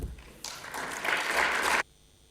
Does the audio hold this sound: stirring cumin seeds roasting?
no